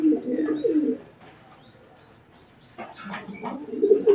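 Racing pigeons in a loft on basketing day coo in low, throaty phrases at close range, with short chirps and a quiet gap between the cooing bouts.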